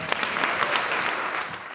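Audience at an arts event celebrating resistance breaks into applause, a dense, steady patter of many hands heard alone for a couple of seconds.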